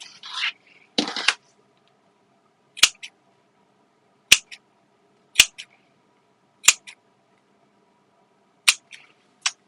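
Scissors notching the curved seam allowance of a zip bag's fabric lining make six sharp, isolated snips, each a crisp double click spaced a second or so apart, close and quiet between, after a brief rustle of fabric.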